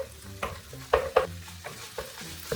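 Fried rice stir-fried in a pan on high heat after Korean spicy stir-fried chicken, a close sizzle broken by several sharp scraping stirs.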